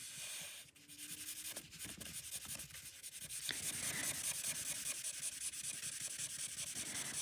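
A chisel-nib marker rubs steadily back and forth across paper while coloring in a wall background, a soft continuous scratchy hiss, close and quiet, with no talking.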